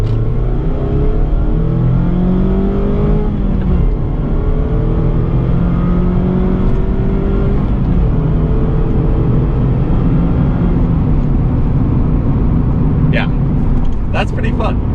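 A 2023 Mazda MX-5 Miata RF Club hardtop roadster accelerates out of a corner, its engine note rising and shifting through gears, loud and close with steady road and wind noise throughout, and brief higher-pitched squeaks near the end.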